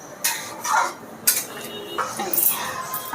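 A spoon scrapes and clinks against a pot as ghugni thinned with a little water is stirred, in brief repeated metallic strokes, close up with no talking.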